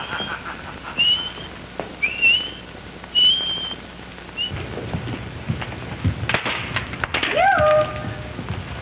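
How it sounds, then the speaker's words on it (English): A person whistles several short, thin rising notes for help, then a louder gliding whistle follows over a rushing, rain-like noise bed, all fairly close and with no talking. "Is that as loud as you can whistle for help?"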